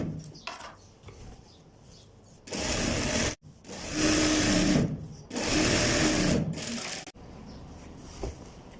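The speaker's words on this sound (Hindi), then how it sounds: "आपका ट्राउज़र दुरुस्त सिमत में स्टिचिंग हो रहा है" A sewing machine stitches pajama trousers in three loud, steady bursts of rapid whirring, separated by brief pauses with quieter handling sounds between runs.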